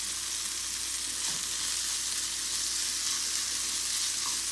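Plant-based beef crumbles with red peppers fry in a hot pan, giving a steady, even sizzle and crackle that runs unbroken and close for several seconds.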